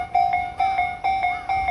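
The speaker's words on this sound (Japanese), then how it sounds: "次日比谷線が来るんか。" A level crossing bell beside Kasukabe Station on the Tobu Railway rings for an approaching Hibiya Line train, close and loud, with evenly spaced double-toned dings about twice a second.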